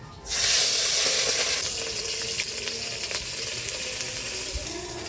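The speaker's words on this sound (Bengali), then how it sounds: "এই যে চিংড়ি মাছগুলো দিয়ে দিব।" Shrimp hit hot oil in a wok with a sudden loud sizzle that settles into a steady, close frying hiss, with no talking.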